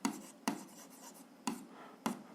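Pen writing on paper while working an algebra problem, faint close scratching strokes with four sharper taps spaced about half a second to a second apart, quiet with no talk.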